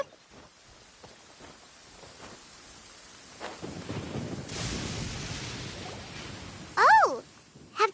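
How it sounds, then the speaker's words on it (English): Thunderstorm in the Genshin Impact video game, a low rumbling roll of thunder swelling with rain and wind, followed by a sharp whooshing electric sweep near the end. "Where is the storm headed?"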